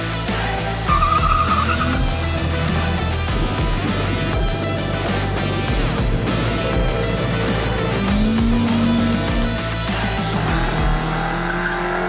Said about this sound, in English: Hopefully that's a bit of a burnout to get the tires warmed up.